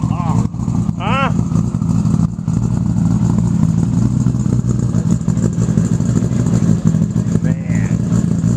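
A 1995 Toyota Supra making about 1,000 horsepower runs hard, its engine a loud, dense, continuous roar with steady low rumble, while voices break in briefly over it.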